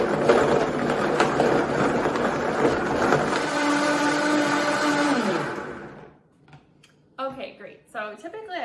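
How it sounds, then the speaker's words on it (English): A Vitamix high-speed blender roars loudly and continuously for several seconds while blending a smoothie, then shuts off and a person starts talking. "I'm using a Vitamix mixer here, or blender. So it is a high-speed blender."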